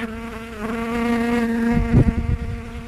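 Honeybees buzzing around an open beehive during a brood check, a loud close steady drone with shifting pitch as individual bees pass near, ending in a brief rustle.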